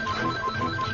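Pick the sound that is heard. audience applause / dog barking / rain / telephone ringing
telephone ringing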